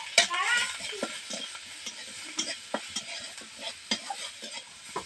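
Chopped ginger, garlic, dried and green chili, salt, cumin powder and turmeric fry in hot oil with a soft, steady sizzle. A spoon scrapes and taps against the pan throughout, and there is faint background noise.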